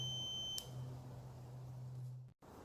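A multimeter set to continuity gives a steady electronic tone during a motorised trike repair, a sustained beep lasting about two seconds before cutting off, faint over a quiet room.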